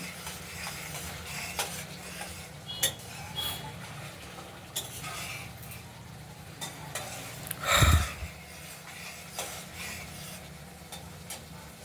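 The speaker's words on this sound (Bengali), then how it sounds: "মশলাটাকে আমরা ভালো করে কষিয়ে নিচ্ছি" Spice paste for a prawn curry frying and being stirred in a pan, a faint, low sizzle with scattered light scrapes and taps, and one louder clatter of utensil on metal partway through.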